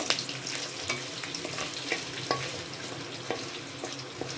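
Curry leaves frying in oil on medium flame, a continuous soft sizzle with scattered crackles and pops, moderately quiet with no talking.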